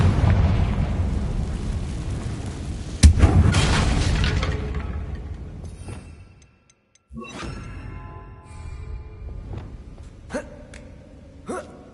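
In Hogwarts Legacy, a Confringo spell blasts a damaged bridge: a sharp, loud burst followed by a heavy rumbling roar that fades over several seconds, then quieter scattered game effects.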